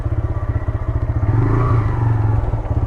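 A motorcycle engine idling close by with a rapid, even throbbing putter that rises slightly in the middle as the bike is brought in to park, with no talking.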